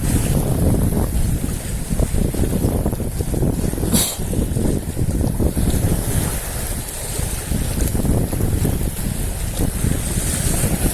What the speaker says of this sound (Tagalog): Lakas na ang hangin. Lumakas na ng lumakas.